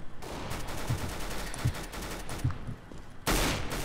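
Rapid automatic gunfire in the video game CS:GO, several close bursts of sharp shots with a heavier blast near the end.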